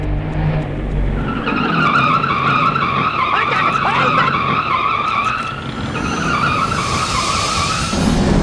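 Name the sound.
truck braking with tires skidding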